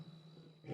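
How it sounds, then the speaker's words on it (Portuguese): Lion roaring near a safari vehicle at night in South Africa, a faint low rumble that swells toward the end, distant and alone. "O urro do leão é emocionante."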